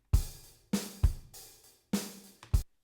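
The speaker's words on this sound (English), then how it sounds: "it comes up with a default drummer" Logic Pro X's default drummer plays a sparse pattern of separate kick and snare hits, about six strikes in three seconds, crisp and close with silence between them.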